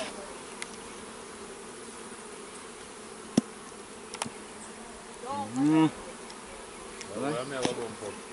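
Low bee buzzing drifts in and out against a quiet outdoor background in Jamaica, with a few faint clicks and short louder buzzing passes.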